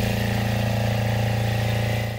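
An 8.5 horsepower natural gas piston engine inside a Marathon EcoPower Micro CHP cogeneration unit runs steadily, a loud, close, even mechanical drone with a strong low hum and rapid regular pulsing.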